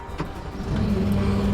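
A skid steer engine starts up, a brief cranking rise that settles into a steady low rumbling idle, close and fairly loud.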